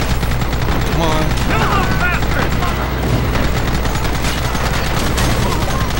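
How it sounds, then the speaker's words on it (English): A Gatling gun firing in the Red Dead Redemption video game: sustained rapid fire over dense, loud game noise across the whole stretch, with some brief higher whistling sounds mixed in. "is my Gatling gun only hitting the side of it?"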